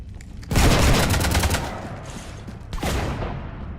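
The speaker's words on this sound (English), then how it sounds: "You want to stop shooting up my ship?" Rapid gunfire bursts in Mass Effect 3 as a ship is shot up, a loud dense volley followed by a second burst, booming and continuous with no talk.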